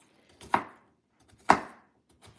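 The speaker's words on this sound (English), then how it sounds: "So I'm just going to dice them by hand." Apples are diced by hand with a knife, giving three sharp, evenly spaced chops about a second apart, close and crisp on a cutting surface against quiet surroundings.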